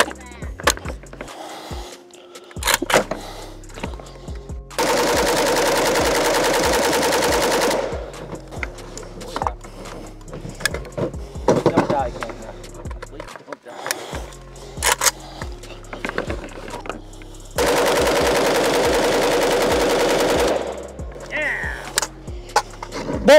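Pioneer Arms 556 Sporter AK rifle firing two long sustained automatic-sounding bursts, loud and close, separated by clattering handling noises, with brief speech between.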